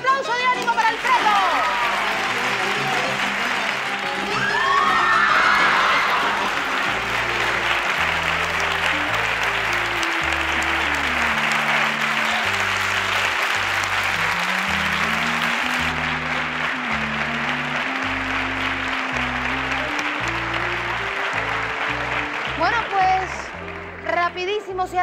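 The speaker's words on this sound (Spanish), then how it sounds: "¡Un aplauso de ánimo para Alfredo!" A game-show studio audience applauds continuously and loudly while background music with a steady beat plays underneath, the clapping fading toward the end.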